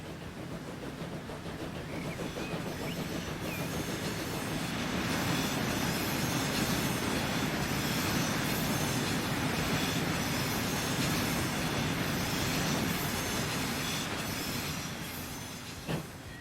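A train in the railway game Transport Fever 2, set in the 1870s American era, rumbles past steadily with rolling wheel noise and faint clatter, swelling slightly in the middle before easing off.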